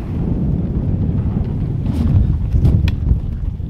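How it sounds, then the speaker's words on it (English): Wind buffets the microphone outdoors at a home building site during footer digging, with a steady low rumble and roar, broken by a few faint clicks and knocks. "It is really windy today."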